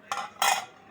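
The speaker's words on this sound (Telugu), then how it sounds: "ఇంకా చూడండి, గిన్నెలు కడగాలి." Dishes handled in a home kitchen: two quick metallic clatters of utensils or pots, close by, lasting under a second.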